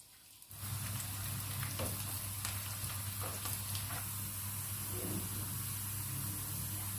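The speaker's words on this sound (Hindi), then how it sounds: "प्याज डाल देंगे" Chopped onions dropped into hot oil in a pan hiss into a loud, steady sizzle that sets in suddenly and keeps going with small crackles, close up and without talking.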